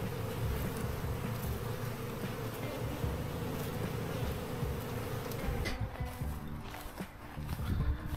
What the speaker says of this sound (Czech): Ty včely teď jsou samozřejmě rozrušené.